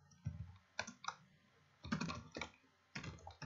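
Fingers type on a computer keyboard in quiet, irregular bursts of soft clicks and key taps with short pauses between them, close and low in level, with no talking.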